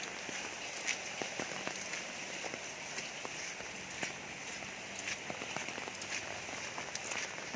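Steady rain falls on a cold day, a dense, even patter on surfaces with scattered sharper drips, continuous and moderately soft throughout.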